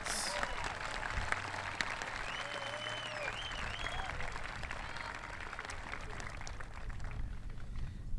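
Sustained applause from a large crowd at a high school graduation ceremony in honour of the musicians, dense even clapping throughout with a voice briefly over it.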